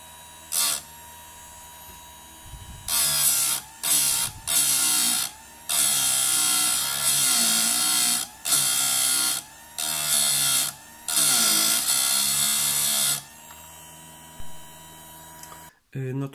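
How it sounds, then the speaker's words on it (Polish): A Parkside electric chainsaw chain sharpener grinds in a series of loud, whirring bursts, starting and stopping repeatedly with brief quiet gaps between runs. "Fajnie cicho pracuje ta szlifiereczka."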